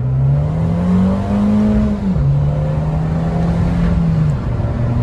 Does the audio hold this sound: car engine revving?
yes